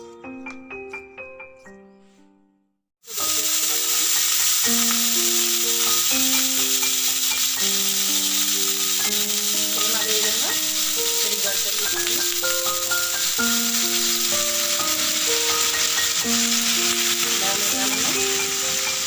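Egg dosa batter hitting a hot pan and breaking into a loud, steady sizzle that carries on without a break, all over background music with a melody running through it.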